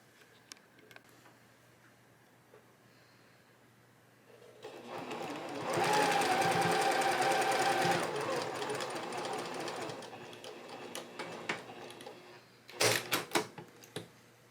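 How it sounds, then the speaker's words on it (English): A sewing machine stitches quilt blocks with a quarter-inch seam in one rapid, even whirring burst of a few seconds, close and fairly loud, framed by quiet handling clicks before and after. "And then we're just going to sew these together."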